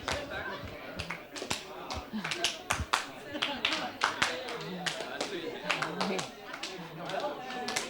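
Sharp rhythmic claps from an audience at a games conference panel, scattered and uneven rather than a full ovation, with chatter and voices underneath throughout.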